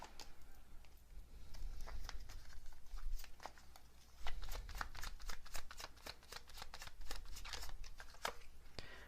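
Tarot cards shuffled and drawn from a deck, a run of quick crisp riffling flicks and soft slides, close and fairly quiet, repeating throughout with no talk.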